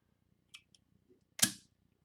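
A capped bottle of milk chocolate oatmeal maple imperial stout is cracked open in a quiet room: a couple of small clicks from the opener, then one sharp pop and a short hiss that fades within a quarter second.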